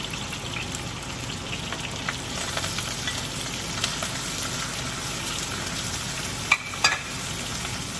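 Chopped ginger, garlic, curry leaves and sliced green pepper fry in hot oil for a Kerala beef fry, a continuous close crackling sizzle with a few sharp pops near the end.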